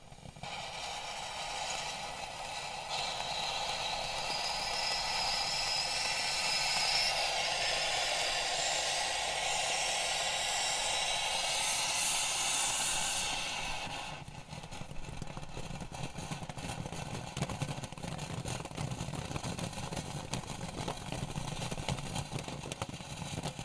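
A firework fountain burns inside a kitchen oven, giving a loud, steady hissing roar for about fourteen seconds that stops abruptly and leaves a rougher, fainter crackling rumble.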